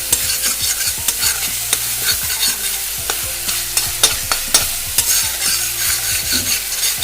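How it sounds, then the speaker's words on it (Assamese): Ingredients for a small puthi fish curry are stir-fried over a high gas flame in very little mustard oil, a close, loud sizzle broken by rapid, repeated scraping and clacking of the spatula against the pan. "দি পেলাই অকমান লৰাই ভাজি লওঁ"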